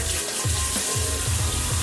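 Hot water runs steadily from a tap, a continuous close rush with faint recurring low thumps beneath it.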